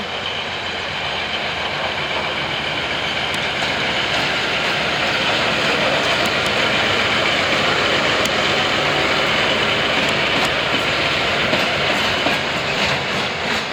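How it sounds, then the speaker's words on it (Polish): Railway cars roll steadily past with a continuous rumbling roar and faint rhythmic clicks of wheels over rail joints, loud and close, as a locomotive shunts wagons at a depot in Braniewo, Poland. "I lokomotywa w ogóle nam ucieka i sobie zostawia wagony."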